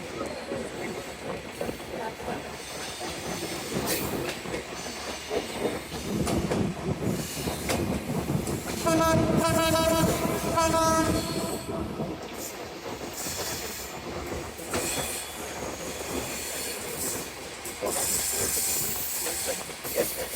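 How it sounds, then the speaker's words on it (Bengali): A train running on the single dual-gauge line from Dhaka toward Gendaria, passing Dayaganj underpass, a loud steady rumble with hissing and rhythmic wheel clatter swelling midway, heard up close from on board. "আমাদের ট্রেনটি এখন দয়াগঞ্জ আন্ডারপাস অতিক্রম করে যাচ্ছে"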